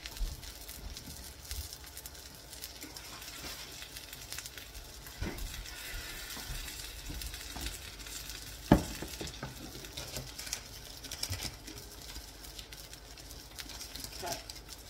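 Mussel fritters frying in butter in a pan, with a quiet continuous sizzle and occasional utensil clinks, including one sharp knock partway through.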